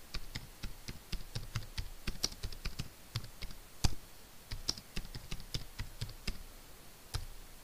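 Steady typing on a computer keyboard, a run of crisp, close key clicks in an irregular rhythm with a few sharper taps, quiet overall and with no talking.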